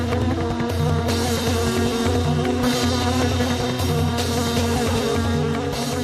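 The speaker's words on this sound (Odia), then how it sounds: "ଜଙ୍ଗଲ ଭିତରକୁ ଗୋଟେ ଗଛ ଡାଳରେ ବସା କରିଥିଲା ମହୁମାଛି।" Honeybee buzzing near a nest on a tree branch in a forest, a continuous droning hum held steadily throughout under a dense musical bed, with no talk.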